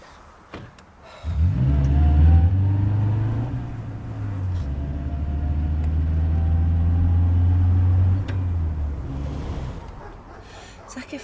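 A car engine starts up and rumbles steadily close by for several seconds, then eases off and fades as the vehicle pulls away, with no talk over it.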